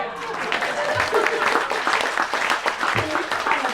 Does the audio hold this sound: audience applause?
yes